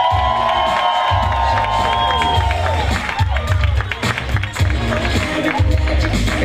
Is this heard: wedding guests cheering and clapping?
yes